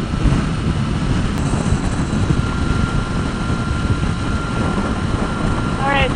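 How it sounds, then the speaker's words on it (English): Strong wind on a road trip across wide open country: loud, constant buffeting roar on the microphone with low rumbling, steady for the whole stretch and masking other sound. "the wind has kicked up"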